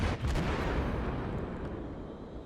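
Heavy naval gunfire from a Nagato battleship slamming into a Konigsberg cruiser in World of Warships, one loud booming impact that rolls into a long, rumbling decay.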